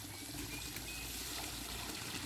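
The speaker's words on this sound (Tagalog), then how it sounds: "lagay ng tubig" Water is poured onto rice seeds set to soak, a steady close trickle and wash of liquid that goes on without a break.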